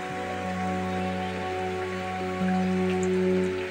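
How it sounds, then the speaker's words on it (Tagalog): Rain falls steadily during flooding in a rural province, a constant patter filling the background alongside a low steady hum, with no voices heard. "Patuloy pa rin yung ulan."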